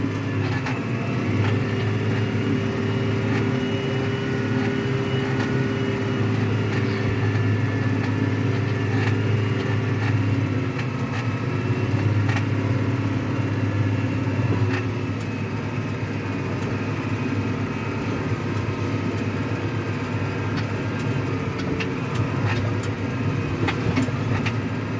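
A New Holland T7.260 tractor drives across a farm field, its engine giving a steady, continuous drone with a constant low hum and no speech for the whole stretch.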